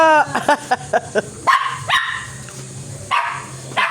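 A dog barks repeatedly in a quick, rhythmic string of sharp, close yaps, pausing briefly before a few more barks, at a hot spring in Calamba, Laguna.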